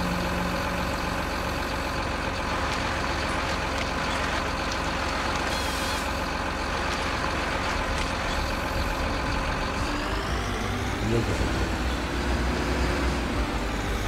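A truck engine drones steadily and loudly in Farming Simulator 19, with a dense continuous rumble that shifts slightly in pitch toward the end.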